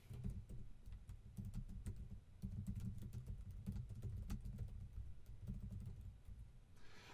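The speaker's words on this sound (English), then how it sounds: "So you can type that in here." Continuous computer keyboard typing as a message is entered, rapid irregular key clicks over a steady low background hum, close and moderately loud with no voices.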